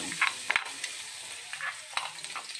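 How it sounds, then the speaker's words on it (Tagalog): Garlic sizzles in hot cooking oil in a pan, a soft steady hiss broken by a few sharp crackles and spits, with faint stirring clatter near the start. "Guys, mainit na yung mantika. Ilagay na natin yung bawang."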